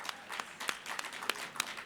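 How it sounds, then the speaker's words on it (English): An audience claps at a morning community gathering, a short burst of scattered, fairly distant applause with uneven individual claps. "Let's give a great round of applause"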